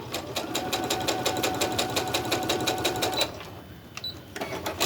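A sewing machine runs close and loud, stitching quilt fabric strips together for a crumb quilt with a rapid, even mechanical rhythm for about three seconds, then stops, followed by softer handling clicks and a brief restart.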